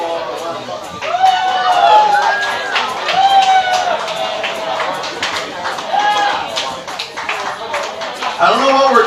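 Crowd at a farewell concert cheering and whooping loudly, with bright shouted yells rising over steady applause and chatter throughout.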